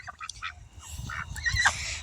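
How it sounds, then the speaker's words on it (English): Ducks and other fowl on a backyard farm giving a few faint honking quacks at a distance in a quiet evening setting, with no talking. "Oh, and my ducks are over there."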